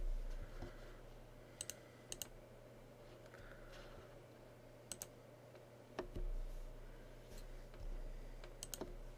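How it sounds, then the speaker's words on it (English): Computer mouse clicks on a Windows Server 2016 machine, a handful of sharp isolated clicks, some in quick pairs, spread over a steady low electrical hum, close and distinct. "I'm going to click on next"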